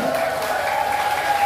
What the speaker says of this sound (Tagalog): Malakas na palakpak para sa Diyos na buhay.